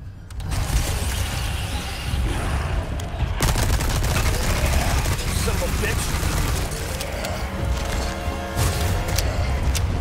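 Continuous bursts of gunfire and booms during a boss fight in Resident Evil 4 Remake fill the clip, dense and loud, with clattering mechanical sounds throughout.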